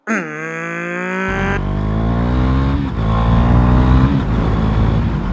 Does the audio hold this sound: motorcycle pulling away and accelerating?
yes